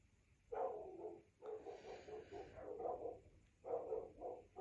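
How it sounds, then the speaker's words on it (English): Several dogs next door bark in a steady run of yaps and woofs, fairly close and continuous with short pauses, no talking over them. "If you can hear them dogs next door"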